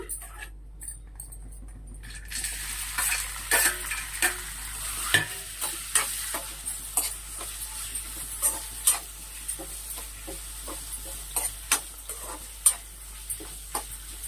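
Cumin seeds sizzle in hot oil in a pan while bitter gourd fry is prepared, a steady frying hiss broken by frequent sharp crackles and pops, close and moderately loud, with no talk.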